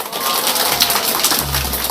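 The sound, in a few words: audience applause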